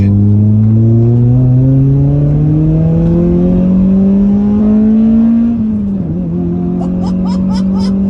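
A Toyota Celica's VVTL-i engine revs hard, its pitch climbing steadily past 6,000 rpm for several seconds before dropping sharply at a gear change, loud and close.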